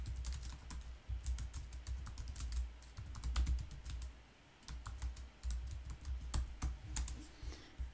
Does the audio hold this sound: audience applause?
no